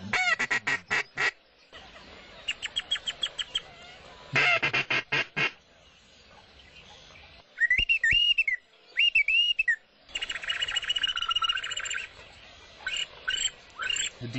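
Duck calls blown in rapid bursts of quacks and honks, with short pauses between sequences, loud and close, mimicking ducks.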